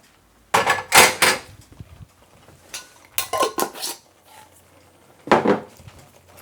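A spoon stirs tahini into fuul in a metal pot, making loud clattering scrapes and knocks in three bursts with quieter scraping between them.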